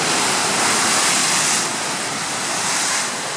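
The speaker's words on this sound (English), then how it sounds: "That is some powerful water." Big ocean waves crash and surge at a blowhole, a loud, close, thundering roar of churning water and spray that swells early on and then stays heavy and continuous.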